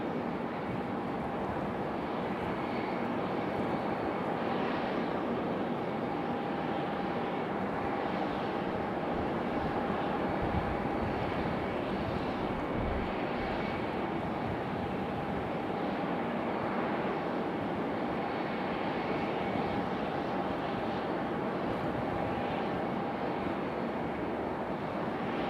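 Southwest Boeing 737 MAX 8 jet engines, a steady broadband roar with a faint whine, holding near-constant loudness throughout with wind buffeting the microphone at an airport.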